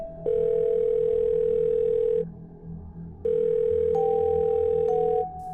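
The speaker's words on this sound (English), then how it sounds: "My phone started ringing." An electronic phone tone sounds in two long steady bursts with a pause between them, loud and close, over a low background hum.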